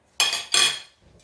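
Two quick, bright scraping clinks of utensils mixing a vegetable salad dressing in a bowl, close up, followed by a faint soft tap.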